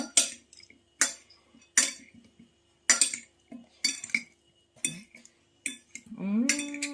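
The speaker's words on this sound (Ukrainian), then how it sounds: "Додаємо до помідорів цибульку і нашу заправку. Все ретельно перемішаємо." Tomatoes, onion and dressing for a tuna salad being tossed in a bowl, a series of separate clinks and scrapes of utensils against the dish in an uneven rhythm, close and fairly quiet, with a brief voice at the end.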